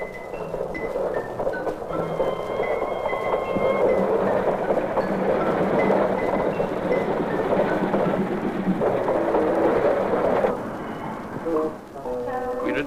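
Electric train running smoothly on welded rails, a steady broad rumble with faint tonal whine and no clear joint clicks, under narration; sound dips near the end.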